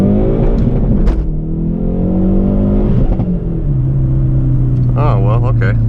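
Hyundai Veloster N engine accelerating hard with no-lift shifts, loud rising revs with quick pitch drops between gears, heard from inside the cabin while people talk over it.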